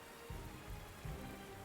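Steady light rain falls in the video game Panzer Corps 2, a constant soft hiss of drops on a surface with a few low thumps, faint and alone without talk.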